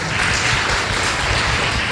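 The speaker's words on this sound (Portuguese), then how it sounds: "Vamos aplaudir Jesus bem forte." A church congregation applauding during a Sunday service, a dense, continuous roar of clapping filling the room at an even level throughout.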